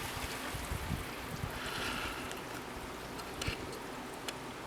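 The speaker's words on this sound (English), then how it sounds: "that's water sounds from the back of my air conditioner" Steady watery trickle and dribbling of water from the back of an air conditioner during a heatwave, fairly close and continuous, with faint splashes over a constant wash of background noise.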